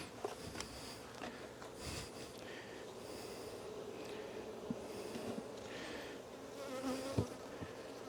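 Honeybees at an open beehive during an early spring inspection hum in a steady, dense buzz throughout, with occasional nearby bees buzzing louder and a few soft handling clicks.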